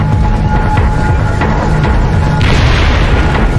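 A natural gas pipeline explosion in central Mexico, a loud continuous roaring boom that fills the whole stretch with dense low rumble and no gaps, with no voices over it.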